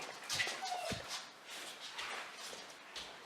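A German Shepherd puppy gives a few short, high whimpers and yips, close by, with quiet shuffling between them and no speech.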